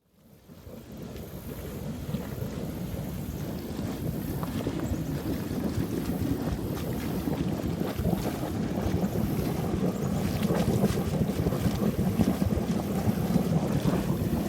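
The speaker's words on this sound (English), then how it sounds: "because it's 2-inch pipe all the way from the pump house to here, it just gurgles like that" Water gurgles through a 2-inch pool pipe as the lines are blown out during pool closing, a rough, churning rumble that rises from a quiet start and then bubbles on continuously.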